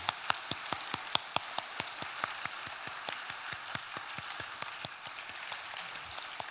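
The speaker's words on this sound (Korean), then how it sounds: "그럼 박수로 추대하도록 하겠습니다" A church congregation claps in steady unison to approve the appointment of elders at a Korean worship service, with evenly spaced, rhythmic claps beating throughout, moderately faint and with no talking over them.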